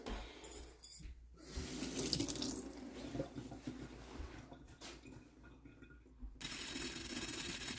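Running tap water splashes into a sink to wet a dirty, crusted frying pan while testing a cleaning product, a steady broadband rush with short breaks and changes in flow, with no talking.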